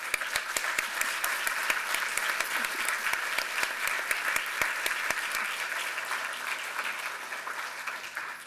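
Conference audience at a European Environment Network event giving a sustained round of applause, dense many-handed clapping that holds steady and slowly tapers toward the end.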